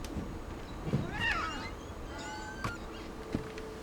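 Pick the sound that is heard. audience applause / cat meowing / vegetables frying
cat meowing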